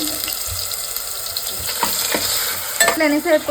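Onion, chili, ginger and garlic frying in a pan for a village-style fish curry, a steady close sizzle with stirring scrapes and a few brief clinks toward the end, no talking.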